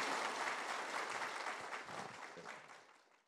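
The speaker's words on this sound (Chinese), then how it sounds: "我们请大家 鼓掌" An audience claps together at a lecture gathering, a full burst of applause that starts strong and gradually thins and fades toward the end.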